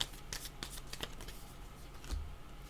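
Tarot cards are shuffled and drawn, making soft riffling and quick papery flicks up close at low volume, with no voices.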